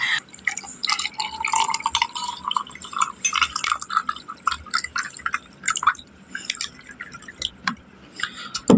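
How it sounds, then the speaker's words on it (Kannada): Water poured straight into a mutton sambar mixture in a home kitchen, giving steady splashing and dripping with scattered clinks, fairly close and with no talking. "ಇವಾಗ ಬನ್ನಿ ಡೈರೆಕ್ಟ್ ವಾಟರ್ ಹಾಕಿದ್ರೆ ನೋಡ್ರಿ"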